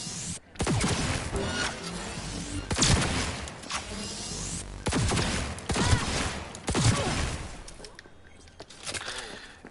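Gunfire from a chemical-damage weapon in the action game Cyberpunk 2077, loud sharp shots fired at an uneven pace with echoing impacts between them, plus a few quieter gaps.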